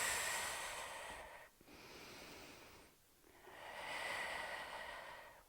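Slow, deep breathing held during a yoga balance pose, with close, airy inhales and exhales in two or three long cycles separated by brief pauses, and no talk.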